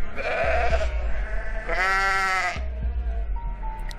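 A goat in the video game Goat Simulator bleats loudly and close, several wavering cries in a row over a steady low background hum, with one long drawn-out bleat in the middle.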